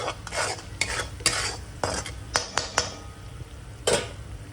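Masala with salt being stirred and sautéed in a pan for okra, a spoon scraping and knocking against the metal at irregular intervals over a soft, steady sizzle, close up with no talk.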